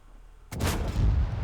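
A tank cannon fires from behind in World of Tanks, a sudden heavy boom that breaks a quiet hum and rolls into a loud, sustained rumble.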